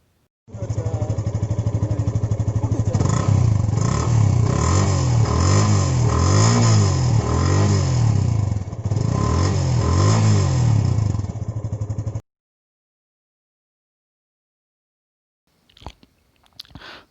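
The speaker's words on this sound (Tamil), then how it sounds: "பைக்கோட எக்ஸாஸ்ட் நோட் இப்போ பார்க்கலாம்." A Yamaha FZ V2 150cc BS4 motorcycle idles and revs through its exhaust, loud and close for about twelve seconds with repeated throttle blips, then cuts off into near silence, with faint noises near the end.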